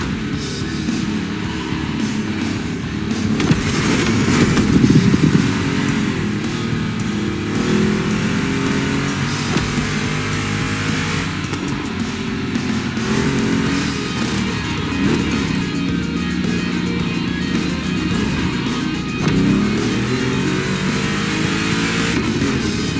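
Two Chevrolet big-block cars race in The Crew Motorfest, with loud, continuous engine roar and revving and shifting pitch running throughout, close and steady with no talk.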